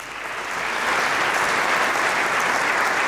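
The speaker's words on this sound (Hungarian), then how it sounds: "Nagy tapsal majd köszönjük meg nekik is." An audience claps for the orchestra and helpers at a Palm Sunday organ concert of film music, the applause swelling during the first second, then settling into a steady, full roar.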